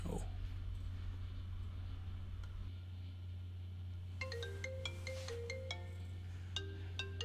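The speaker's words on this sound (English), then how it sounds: "I know everybody looked at their phone when they heard that." A phone ringtone chimes in a short melodic pattern of bright repeating tones, faint and clear over a low steady hum, starting partway through after quiet background noise.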